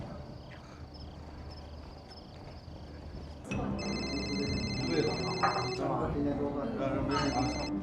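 Telephone ringing unanswered indoors: a bright electronic ring starts partway through and repeats in short bursts over a busy background.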